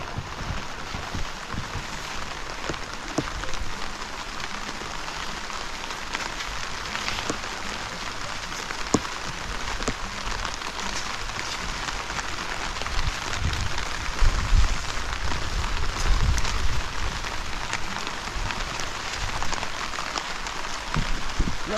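Steady rain falls on a garden of squash plants, a continuous close hiss with scattered drop taps, growing slightly heavier partway through.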